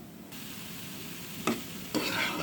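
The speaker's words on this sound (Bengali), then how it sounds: "আমি একটু ঘি দিয়ে ভাজে নিচ্ছি হালকা।" Bottle gourd frying lightly in ghee, a soft steady sizzle with two brief louder stirring scrapes near the end.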